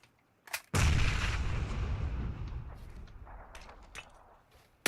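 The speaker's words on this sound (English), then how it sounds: "He's throwing a grenade." A grenade explodes in a PUBG match, a loud deep boom that rolls into a long rumbling decay over several seconds, with faint clicks and scattered shots trailing off afterward.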